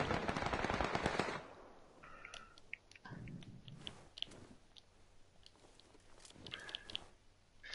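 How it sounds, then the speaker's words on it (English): Distant gunfire in the battle-royale video game PUBG comes as faint bursts of sharp cracks and rapid automatic shots over quiet ambience, with a louder rustle at the start. "Who's shooting?"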